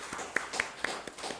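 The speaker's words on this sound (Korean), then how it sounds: "우리 중고등부 아이들에게도 우리 박수 한번 하도록 하겠습니다." A few scattered hand claps from a church congregation, faint and sparse, a handful of sharp claps spread across a short moment.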